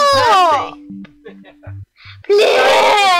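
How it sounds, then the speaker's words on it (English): A young child screams with long wailing cries at the start and again at the end, loud and close, separated by a short gap of beeps and quieter sounds. "You're making the scream too big!"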